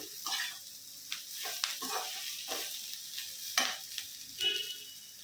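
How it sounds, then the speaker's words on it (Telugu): Fried ivy gourd (dondakaya) is stirred into onion masala in a pan, giving soft oily sizzling with repeated scraping strokes of a spoon, quiet and close, no talking. "వేయించి పెట్టుకున్న దొండకాయలు వేసేద్దాం."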